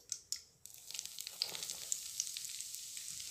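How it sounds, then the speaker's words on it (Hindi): Gram flour (besan) dropped into hot ghee in a kadai for halwa, a couple of soft thumps of it going in, then a quiet, steady crackling sizzle with faint scraping, no talking. "घी गर्म हो चुका है, मैंने एक बाउल बेसन का लिया हुआ है,"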